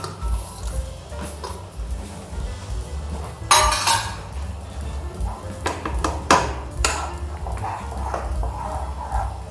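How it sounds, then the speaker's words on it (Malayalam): A metal spoon scrapes and clinks against a pan while semolina is stirred for rava kesari, with steady low scraping broken by a few sharper clatters; no one speaks. "റവ വന്നിട്ട് ഈ കട്ട പിടിക്കാത്ത രീതിയിൽ ഒന്ന് ഇളക്കി കൊടുക്കണം കേട്ടോ"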